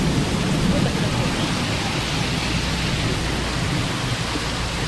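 Heavy hail and rain pelt down in Konkan with a constant, dense hiss and rumble, loud and unbroken throughout.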